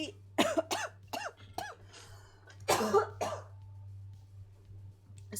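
Several harsh coughs in quick succession, then a pause and another burst of hacking coughs, close to the microphone over a steady low electrical hum, with throat-clearing sounds mixed in.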